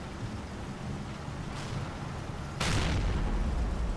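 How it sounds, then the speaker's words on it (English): Heavy American howitzer shells land during a large Normandy battle in a WWII tactics game, two deep booming impacts a second apart over a constant rumbling battlefield wash, the second blast louder and closer. "Looks like that's from the heavier howitzer the Americans have."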